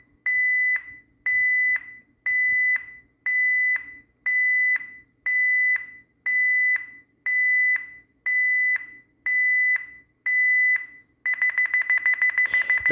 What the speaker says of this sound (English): The fast beeping indicates that you should exit